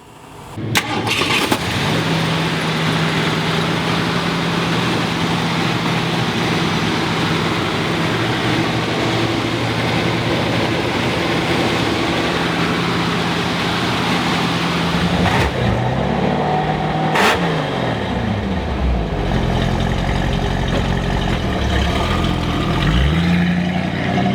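A 1969 Ford Mustang Fastback with a 428 Cobra Jet V8 fires up and drives, its engine roaring loud and steady for a long stretch, then revving and shifting through gears near the end.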